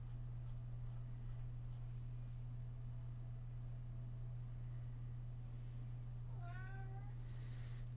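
A cat gives a single short, faint meow near the end, heard over a steady low electrical hum with no other sounds.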